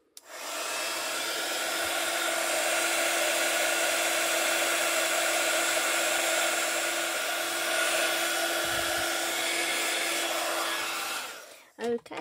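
A heat embossing gun blows hot air while being preheated for card making, giving a loud, steady whirring roar that holds for about eleven seconds before cutting off abruptly.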